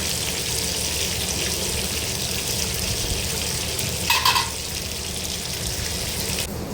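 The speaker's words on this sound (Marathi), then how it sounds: "पापलेटही फ्राय करायला घेतलेले आहेत सेम त्याच पद्धतीने रवा लावूनच मी फ्राय करून घेतलेला आहे पापलेटला सुद्धा" Semolina-coated pomfret fish shallow-frying in a pan, giving a steady, dense sizzle that runs close and constant throughout, with a brief brighter crackle partway through and no talking.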